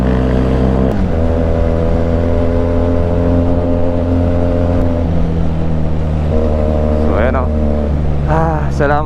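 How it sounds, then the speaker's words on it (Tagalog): A motorcycle engine drones steadily while riding on the road, its pitch holding, then shifting and rising in brief revs toward the end. "ngayon lang ulit tayo nakapag-motor"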